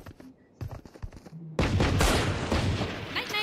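A few quiet clicks give way to a loud, dense burst of gunfire from Valorant, rapid shots rattling continuously close up for the remaining seconds.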